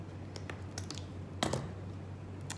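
Scissors snip through craft pipe cleaners up close, giving a handful of sharp, separate clicks spread unevenly over a few seconds.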